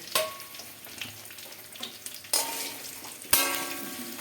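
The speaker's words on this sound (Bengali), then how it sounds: "আমরা চিকেনগুলো দিয়ে দিয়েছি। ভালো করে আমরা নাড়িয়ে নেবো।" Chicken 65 pieces sizzle and fry in a hot pan while being stirred, with soft, steady frying broken by sharper bursts of sizzling and scraping at intervals, no talking.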